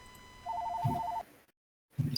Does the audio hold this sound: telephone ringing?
yes